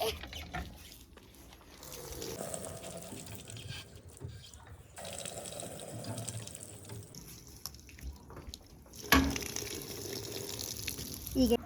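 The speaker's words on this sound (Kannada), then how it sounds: "ಬೋರ್ವೆಲ್ಲು ಈ ಥರ ಇರುತ್ತೆ. ಹಿಂಗೆ ಮೇಲ್ ಮಾಡಿದ್ರೆ ಹಿಂಗೆ ಕೆಳಗೆ ಮಾಡಿದ್ರೆ ನೀರು ಬರುತ್ತೆ" Water splashes and gurgles from a borewell hand pump being worked up and down, with creaks and a sharp clank partway through, over steady background noise.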